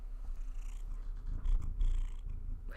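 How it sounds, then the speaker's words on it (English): Cat purring steadily right up against the microphone, a low continuous rumble that swells slightly in the middle, with no other sounds. "You want everyone to hear you purr again?"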